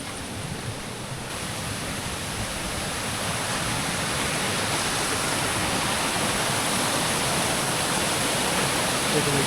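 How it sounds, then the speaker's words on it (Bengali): Water pours down a waterfall in the Ayodhya hills of Purulia, a loud broadband continuous rush that builds slightly and stays steady throughout, with no voices over it. "চারিদিক দিয়ে জলটা ঠিক নাবছে এই দেখুন এখান দিয়ে আসছে এতে জল নাবছে"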